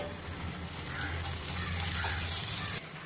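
Chopped onion and garlic with a pinch of salt sautéing in a pan for Kerala chicken perattu, a steady close sizzle with faint stirring and no talk.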